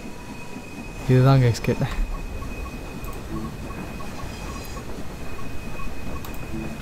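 A vintage steam locomotive in the Train Sim World game rolls along with steady rhythmic chuffing and clanking, a brief louder burst near the start. Someone speaks briefly over it.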